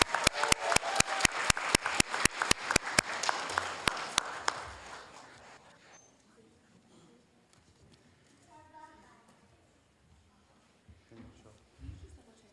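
Audience applause at a Hayward city council meeting, with a crisp rhythmic burst of clapping that fades out after a few seconds, followed by quiet room noise and scattered speech.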